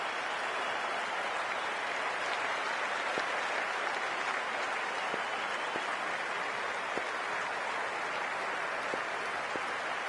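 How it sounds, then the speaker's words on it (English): A stadium crowd at a Big Bash League cricket match between the Melbourne Renegades and Perth Scorchers applauds and cheers, a dense, steady wash of clapping that continues throughout with no talking. "it's a loud crowd as the players make their way out"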